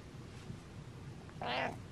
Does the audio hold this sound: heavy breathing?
no